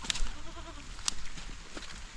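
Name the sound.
goat bleating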